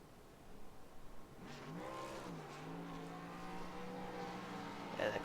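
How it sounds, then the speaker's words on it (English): Race car number 21 doing burnouts at Las Vegas Motor Speedway, a steady sustained engine roar with rising revs and tire noise, moderately distant and continuous throughout. "And the classic 21 burnouts here once more"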